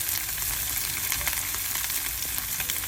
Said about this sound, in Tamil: வதக்கிறதுக்கு கொஞ்சம் வெங்காயம் இதுக்குள்ளே சேர்க்க போகிறேன்